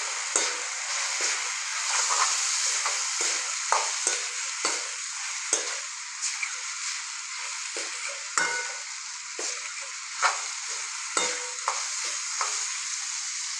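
Turmeric, cumin and other spices stirred in a hot frying pan for sev tameta curry, a constant close sizzle punctuated by regular spoon scrapes and taps.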